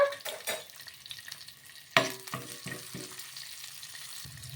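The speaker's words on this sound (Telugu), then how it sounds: "ఇలా నూనె వేడెక్కిన తర్వాత ఇందులోకి ఒక పది వెల్లుల్లి రెబ్బలు అలాగే ఒక స్పూన్ అంతా జీలకర్ర కూడా వేసుకోవాలి ఇలా వేసేసుకొని ఇవి కొంచెం ఫ్రై అయిన తర్వాత" About ten garlic cloves and a spoonful of cumin drop into hot oil with a sharp burst of sizzling, followed by a few stirring scrapes and a softer crackle, close up.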